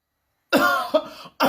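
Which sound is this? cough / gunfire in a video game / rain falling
cough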